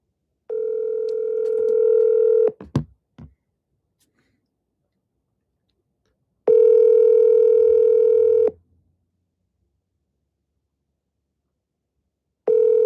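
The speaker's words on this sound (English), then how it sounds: "let me give this guy a call" Phone call being placed to ask about a house for sale: two long steady ringback tones with a pause between, a brief click after the first, and a third ring starting at the end, no talking.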